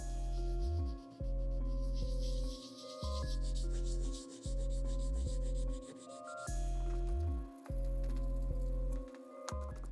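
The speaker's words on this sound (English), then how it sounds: "After about 45 minutes of sanding, that's as good as it's gonna get for now." Sandpaper worked by hand across the white-painted leather toe box of a Dior Jordan 1 sneaker, a steady rasping rub in long strokes with brief pauses between passes, close and continuous with no talking.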